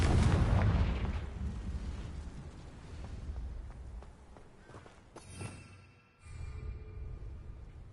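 A Confringo fire spell in Hogwarts Legacy bursts into a heavy, rumbling explosion that opens loud and full, then decays into a long crackling tail with another smaller boom near the end.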